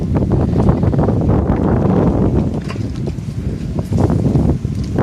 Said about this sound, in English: we actually have a nice cool breeze blowing on this 37-degree heat